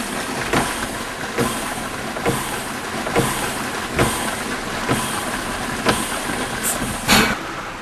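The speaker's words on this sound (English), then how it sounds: "we have normal pump operation with the primary pump transferring product and the spill stop sitting passively, acting as a large muffler" Air-operated pump transferring product with a Blacoh Spill Stop fitted on the exhaust as a large muffler; a steady hiss is punctuated by regular loud exhaust pulses roughly once per second.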